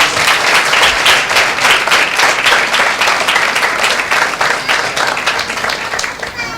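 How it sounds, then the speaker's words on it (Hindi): A congregation at a Christmas celebration in church gives loud, sustained applause in praise of God's name, dense clapping filling the room steadily for several seconds. "चलिए परमेश्वर के नाम को एक जोरदार ताली देते हैं"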